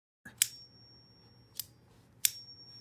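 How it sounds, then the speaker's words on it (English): Iron Curtain ping fidget toy struck three times, each a sharp metallic click followed by a thin sustained ringing tone like a tuning fork, close and clear over quiet background. "So this is a ping fidget."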